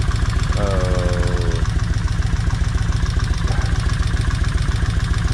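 A Kawasaki Vulcan 1600 motorcycle engine idles steadily up close, a loud, even mechanical thrum with a brief higher whine near the start, after a battery swap.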